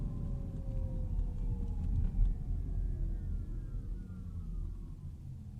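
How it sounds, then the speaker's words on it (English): Inside a 2021 Audi e-tron Sportback electric car, a faint whirring hum with falling then rising tones plays over low road rumble as the car slows to a stop and pulls away again. "you can hear all that whirring and just low frequencies as you come to a stop, and then once you accelerate, it's very cool."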